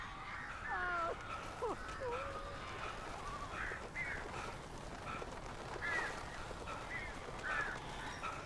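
Harsh crow caws from the Alan Wake video game, repeated calls spaced every second or two over a constant background hum, with possible faint talk underneath.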